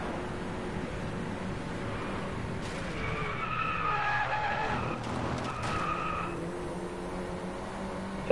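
Car tires squeal and skid under heavy braking in Driveclub, driving an Audi, with a rising, whining screech over the steady engine drone that swells in the middle and then fades back.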